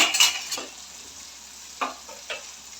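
Soft sizzling in a pan as boiled water is added to stuffed bitter gourd, with a few clinks and scrapes of a utensil stirring, fairly close and quiet.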